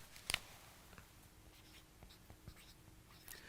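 Pen or marker scratching on a board or paper during a maths lecture working through a trigonometric transformation problem, a sharp scrape near the start followed by faint, sparse stroke sounds in a quiet room.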